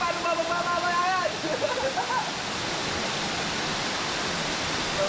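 A steady, broad rush of falling water roars close by, with a voice talking over it at the start before the cascade continues alone.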